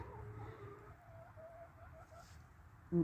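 Hens cluck softly inside a coop after rain, faint, scattered, slightly distant calls over a quiet backdrop, ending with a brief louder sound.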